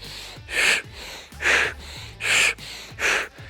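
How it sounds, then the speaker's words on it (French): Four forceful exhales, two to each shoulder press rep, in a steady paired rhythm, each a short breathy huff close to the mic, with quiet breathing between them. "Vous soufflez en haut, vous soufflez en bas."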